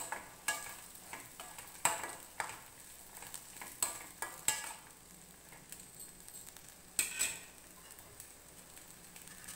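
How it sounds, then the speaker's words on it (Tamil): Onions and tomatoes stir-fry in a pan for pirandai kuzhambu, a fairly quiet sizzle broken by irregular sharp clinks and scrapes of a spoon against the pan, close by and without talk. "அந்த வெங்காயம் தக்காளி எல்லாம் சேர்ற மாதிரி ஒரு தடவை நல்லா பிரட்டிக்கோங்க"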